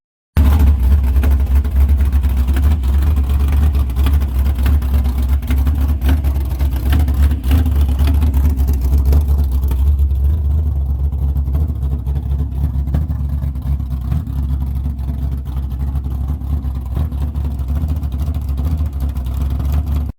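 Engine of a 1972 Pontiac Grand Prix Model J, a classic American car, running steadily with a deep, loud rumble and slight swells in revs over about twenty seconds, with no voices.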